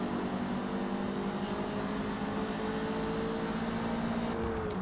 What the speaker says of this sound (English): just the sounds of the air whooshing by